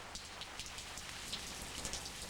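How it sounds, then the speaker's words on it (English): Steady rain on Cocos Island, a dense patter of drops falling on surfaces with a few brighter nearby drips, continuous and fairly quiet with no voices. "Morning brings the familiar sound of rain to Cocos Island."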